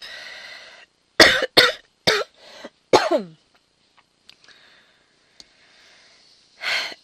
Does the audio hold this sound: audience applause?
no